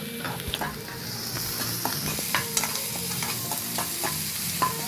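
Onion with a pinch of salt fries in a pan, a constant close sizzle punctuated by repeated scraping clicks of a spoon stirring against the pan.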